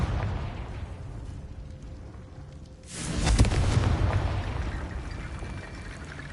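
A Confringo fire spell from Hogwarts Legacy goes off in a loud, broad burst about halfway through, then rumbles on, louder than the quiet ambience before it.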